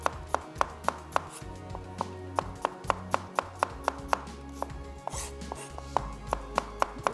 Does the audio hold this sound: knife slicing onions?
yes